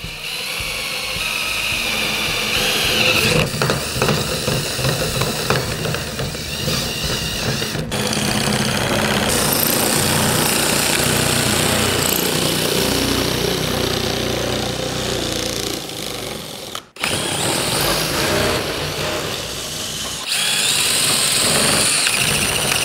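Power tool cutting a circle in cement backer board, a loud continuous high-pitched grinding buzz that runs almost unbroken, with a few brief pauses and changes in load.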